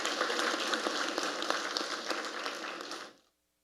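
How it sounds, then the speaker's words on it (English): An audience applauds after a panel discussion: dense, steady clapping that fills the room, then stops abruptly. "So a round of applause, please,"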